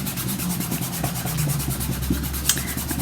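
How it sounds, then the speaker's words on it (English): Firm hand rubbing against a surface while making candy corn: a continuous close scraping and rubbing sound under a low hum, with no speech. "And rub that down nice and hard."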